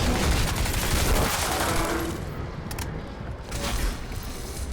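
Enemy energy gun in the Crysis 3 video game zapping the player: a dense, continuous crackling barrage that eases slightly midway before swelling again.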